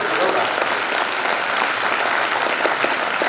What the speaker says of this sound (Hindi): जोरदार तालियां चाहिए।